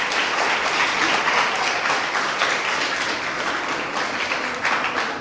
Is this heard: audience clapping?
yes